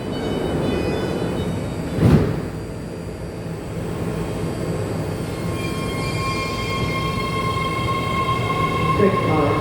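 A Dublin/Pleasanton BART train at San Leandro station: a steady low rumble of the train in the station, with a brief louder thump near the start and a rising tonal whine toward the end.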